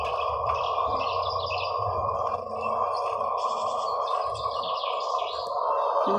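Birds chirp and tweet from a bird video played on a screen while a cat watches, with busy overlapping calls over a steady electronic hum, continuous and moderately loud.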